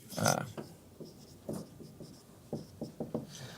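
Handwriting during a classroom lesson comes through as a series of short scratching, tapping pen strokes, fairly close and soft, scattered irregularly amid faint room sound.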